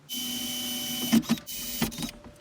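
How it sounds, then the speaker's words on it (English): A power drill bores into the top bracket of a sliding-door blackout curtain, whirring in two close, loud bursts with short pauses between them. "I'll get the top one drilled"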